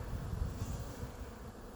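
Bees buzz steadily at an open beehive, a dense low drone with no voices.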